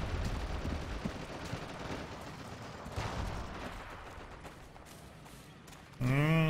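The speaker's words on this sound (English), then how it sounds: "Stop shooting at me!" Dense battlefield gunfire in Forgotten Hope 2, with overlapping shots and rumbling blasts at varying distances that fade gradually, and a voice speaking at the very end.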